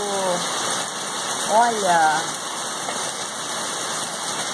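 Hailstones strike wood in an orchard during a hailstorm, a continuous rattling patter close by, with a short spoken word and a brief voice rising over the noise.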